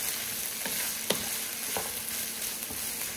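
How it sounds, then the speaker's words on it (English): Sausage, herbs and apple sautéing in a pan, a soft continuous sizzle broken by several sharp stirring taps and scrapes, fairly quiet and close. "we'll just saute all of these together for just a few minutes"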